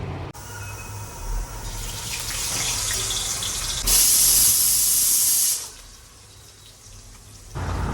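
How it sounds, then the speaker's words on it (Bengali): A pressure cooker lets off a loud, steady steam hiss with a shrill whistle peaking midway, close by in a home kitchen while oil heats in a wok. "ওদিকে প্রেশার কুকারে সিটিও পড়ে গেল"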